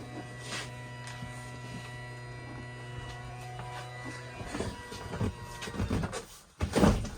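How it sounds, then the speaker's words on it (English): Electric table in a Chausson Welcome 716 Premium motorhome lowering, a steady low motor hum with faint whirring for several seconds, then it stops and is followed by a few louder knocks and bumps close by. "you've got an electric table here. So drop the table down."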